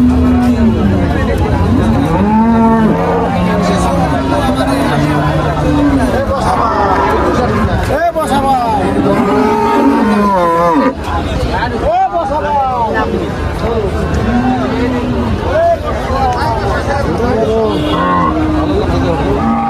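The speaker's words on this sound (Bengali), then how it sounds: "আজকের টেপাখোলা হাটের সব থেকে ছোট গাই হচ্ছে এটা।" A cow moos several times at the crowded Tepakhola cattle market, with long drawn-out lows rising through loud, constant crowd babble and chatter.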